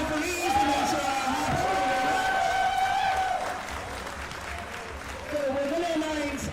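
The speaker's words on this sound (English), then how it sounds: "can I please have a big round of applause for all of our lifters" An audience at a lifting competition applauds steadily for the lifters, a dense sustained patter with voices calling out over it, easing slightly partway through.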